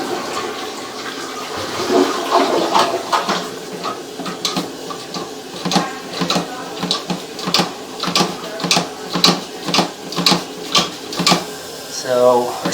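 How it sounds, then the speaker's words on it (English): A toilet flushes in a house during a sewer line camera inspection, with a rushing water surge and a steady run of rhythmic mechanical pulses that continue throughout while people talk. "we'll see if we flush the toilet here some more"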